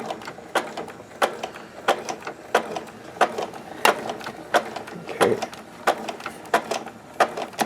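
A Janome MC8300 sewing machine, a heavy mostly metal domestic machine using class 15 bobbins, runs with a steady mechanical clatter of repeated needle strokes at a regular rhythm, close and moderately quiet.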